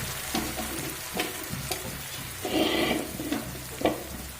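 Boiled banana flower and mashed potato are sautéed with spices in a pan, a continuous close sizzle broken by repeated scraping stirs and a few brief clatters.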